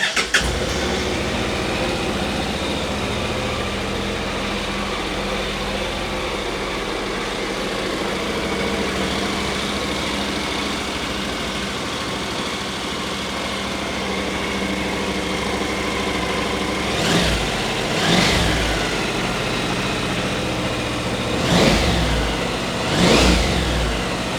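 A 2012 Honda NC700X ABS motorcycle engine starts and settles into a steady idle, then is revved in a few rising bursts near the end, loud and close with no talk.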